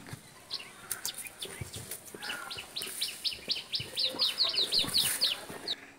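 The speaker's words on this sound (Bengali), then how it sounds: "কি সুন্দর পাখি ডাকছে" Village birds chirp and sing close by in repeated quick bursts of rising notes, over soft rustling outdoor background and faint fowl sounds.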